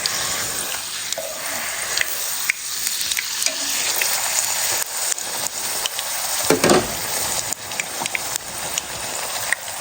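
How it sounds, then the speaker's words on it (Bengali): Chicken wontons deep frying in oil, a constant loud crackling sizzle like heavy rain that runs throughout, close and unbroken, with a few faint knocks and no talking. "তো ভাইজা নিতেছি অন্থনগুলো।"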